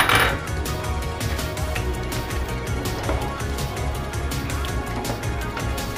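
A utensil stirs chicken gizzard bopis in a metal pan, making dense, continuous scraping and clinking close up throughout, without voices.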